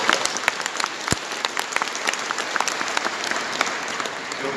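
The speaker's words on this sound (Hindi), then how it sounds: "तालियां बजा दो मेरे पास," An audience at a spiritual discourse gives dense, continuous applause, with many hands clapping steadily for several seconds.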